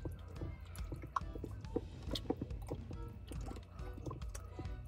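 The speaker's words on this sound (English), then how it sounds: "So I'm just rinsing off the meat" Water runs and splashes while raw meat is rinsed during camp cooking in a van, with a continuous liquid wash broken by small drips and clicks, close and fairly quiet.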